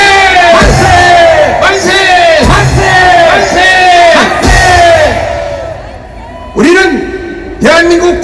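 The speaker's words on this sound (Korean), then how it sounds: "다같이 힘차게 대한민국 만세를 부릅시다" Large crowd at a Korean patriotic rally shouting a national cheer in unison, loud massed voices in repeated rhythmic bursts, with a final pair of shorter shouts after a brief lull.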